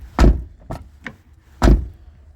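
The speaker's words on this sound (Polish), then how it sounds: "Proszę, jak się drzwi otwierają, zobaczcie." A Mazda car door at a scrapyard clicks and thuds open, followed by a couple of lighter knocks and a second solid thump, close by with no talking.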